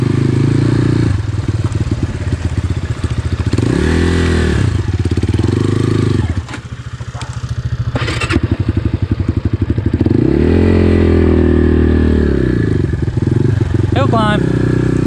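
A GPX FSE 250 dirt bike engine, 2021.5 model, climbs a hill in second gear, its loud close drone rising and falling with revs and dipping briefly, while a rider talks over it.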